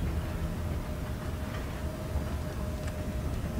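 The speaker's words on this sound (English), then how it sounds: "I can ride one of the trains out" Train ride in the game Dead Space 3, a continuous low rumbling rattle of a moving train carriage, steady and enveloping with no speech.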